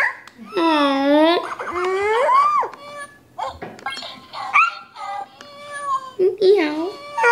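A voice imitates a cat meowing, with several drawn-out, wavering meows in a row, close and fairly loud, interspersed with giggles and short bits of talk.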